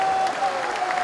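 Brief burst of hand clapping from a Bible study gathering, a dense patter of many hands over a faint sustained tone.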